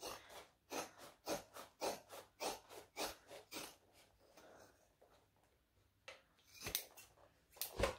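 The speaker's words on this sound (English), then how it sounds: "I'm just going to chop it off anywhere" Scissors snipping off excess fabric along seams, a quick rhythmic run of about a dozen crisp close cuts, a short pause, then a few more snips, quiet and with no talking.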